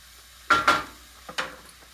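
Food being mixed in a pan makes a few quiet scrapes: two quick strokes close together, a short pause, then two fainter ones.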